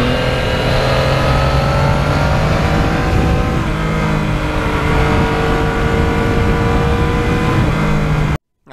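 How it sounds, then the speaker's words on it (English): A Yamaha MT-09 three-cylinder motorcycle with a quiet exhaust hums at a steady cruise, close and continuous with wind rush throughout, until it cuts off abruptly at the end. "as we go through the populated areas here, I am just so happy to have a quiet exhaust"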